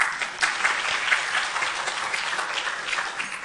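Audience applause rises at an environmental sciences event for women, a dense, even patter of many hands clapping for a few seconds at moderate loudness.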